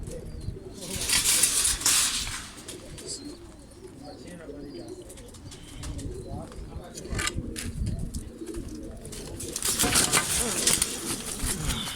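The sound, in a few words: pigeons cooing and flapping wings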